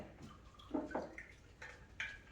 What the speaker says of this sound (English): I'm just catching the drip